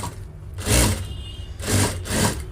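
A sewing machine double-stitches the fold of a blouse sleeve in three short rasping runs of needle chatter, close and separated by brief quieter pauses.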